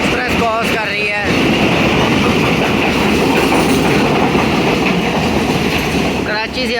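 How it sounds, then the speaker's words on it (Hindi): Awam Express train running along the rails, a loud continuous rumble and rattle of wheels and carriages passing close by, steady throughout with a brief squeal near the start and end. "अब अवाम एक्सप्रेस क्रॉस कर रही है।"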